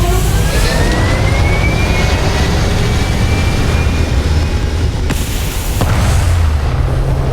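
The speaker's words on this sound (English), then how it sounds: "Engines firing." Spaceship engines fire in the Starfield game, a loud, steady, broadband roar that holds at full strength without a break, with a faint rising whine drifting across it and a couple of brief sharp accents near the end.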